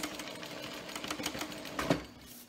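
Domestic sewing machine stitching fabric near zipper tabs, with a back stitch: a steady close mechanical whir with rapid needle clatter, rising briefly near the end.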